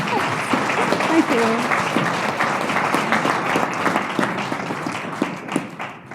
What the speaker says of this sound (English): let's start with giving you a big round of applause